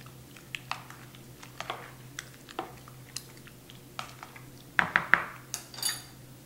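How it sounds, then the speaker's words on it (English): Chunky salsa ingredients are mixed in a bowl, with wet clacking and utensil clicks in irregular bursts that get louder and busier toward the end, over a low steady hum. "Now I'll mix this all together"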